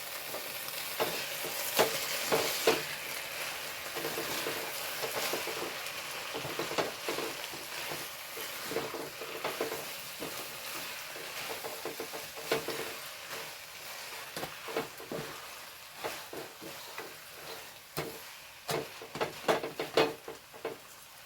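Parotta frying in a pan, a soft steady sizzle with frequent stirring and scraping clatters that grow more frequent toward the end, moderately quiet and close, no speech.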